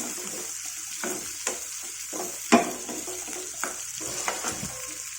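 Onions fry in a pan with a steady close sizzle, broken by several sharp clatters and scrapes of stirring spread across the stretch, with no talk.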